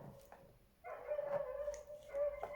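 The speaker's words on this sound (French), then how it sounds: "c'est des jeunes chiens. Un peu fougueux." Young, lively dogs outdoors give a few short barks and whiny yelps, heard at a moderate distance through a room, coming in bursts after a quiet start.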